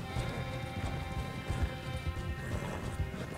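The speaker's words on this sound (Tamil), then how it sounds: "எவ்வளோ பெரிய குதிரை பார்த்தீங்களா" Big horse galloping in Red Dead Redemption 2: steady, rapid clip-clop of hooves at close range, rumbling under a dense game soundscape, no speech.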